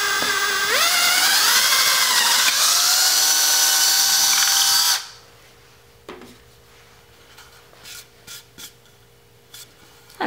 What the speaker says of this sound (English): with a 5/16 drill bit, you want to go ahead and drill